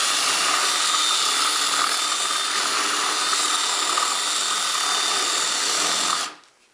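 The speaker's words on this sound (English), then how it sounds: "twist the drill bit back and forth as I drill through to elongate the hole" A power drill bores dowel holes through a wooden panel for a bedside table, a loud steady whine that holds for about six seconds and then cuts off.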